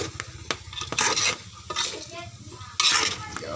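A spoon stirs chicken soup with papaya in a full cooking pot, with scraping clinks against the metal and a soft sloshing in irregular strokes, up close.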